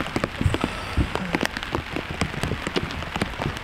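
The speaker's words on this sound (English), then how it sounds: "It's still raining, but very, very light." Light rain patters steadily on the surface of a tent or car at a camp beside ocean water, with a dense, close spread of drops and scattered louder taps, heard on its own.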